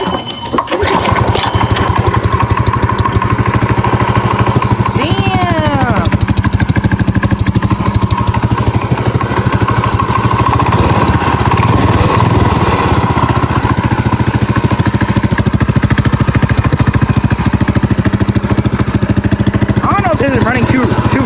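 A Predator 212cc small engine fitted with a stage one kit runs loud and close, holding a steady rough idle with a few revving swells, while a person talks over it.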